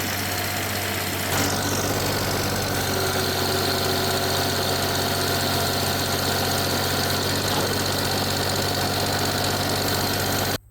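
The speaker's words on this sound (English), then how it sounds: "the brush hog is an awesome machine" A tractor engine runs steadily with a brush hog mower attached, its loud, constant mechanical drone and rattling vibration filling the whole stretch without pause.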